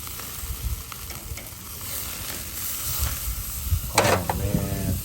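Tri-tip steaks sizzle on a grill just after being flipped, a steady close crackling hiss with a few louder pops and scrapes near the end, and no talking.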